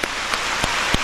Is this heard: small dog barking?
no